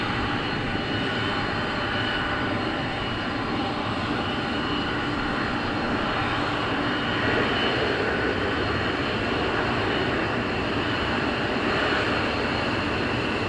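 F-15E fighter jets taxi out at RAF Lakenheath, a continuous loud engine roar and whine holding steady throughout, dense and broadband with no pauses.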